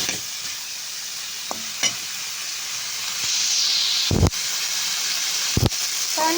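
Ingredients sautéing in a hot pan, a continuous sizzling hiss broken by a few sharp scraping stirs near the end, close and fairly loud with no voices.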